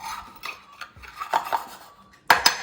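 Batter for dipping fish, seasoned with a pinch of salt and curry powder, being stirred in a bowl with a utensil: a run of soft scraping rubs and a few louder clinks near the end, up close with no voices.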